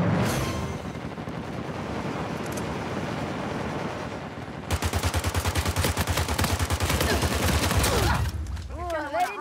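Rapid M4 rifle fire in Uncharted 4 multiplayer, a dense run of sharp automatic bursts that turns into a steady, loud rattle midway through, set against busy game noise, with chirping sound effects at the end.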